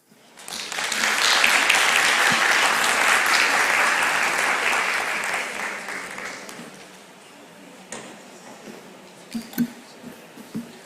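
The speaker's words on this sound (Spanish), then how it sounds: "Recibimos al doctor Álvaro Jiménez con un fuerte aplauso." Loud applause from a seated audience greets a doctor arriving to give a university keynote talk, swelling fast, holding steady for several seconds, then thinning into a few scattered claps and low murmurs.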